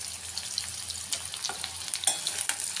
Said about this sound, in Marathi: मोहरी, लसूण आणि हा कांदा आता छान ब्राऊन होऊ द्यायचा याला.